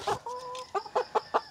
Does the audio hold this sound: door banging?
no